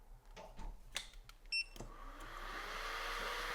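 A hot air tool warms a stencil on a Samsung Galaxy phone board, scattered clicks and taps giving way to a rising steady blowing hiss, with a short beep midway, fairly faint overall.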